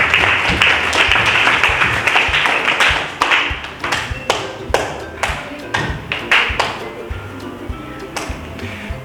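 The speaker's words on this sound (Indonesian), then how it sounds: "Beri tepuk tangan." A classroom bursts into loud clapping that starts dense and gradually thins into scattered, uneven claps over nine seconds.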